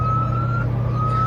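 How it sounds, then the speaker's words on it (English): An ambulance siren passes outside, a steady high wail sounding continuously at moderate level against a constant low hum indoors, with no talking. "what kind of ambulance is that?"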